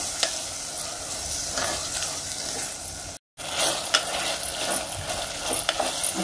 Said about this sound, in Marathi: आता दही चांगलं परतून घ्यायचं।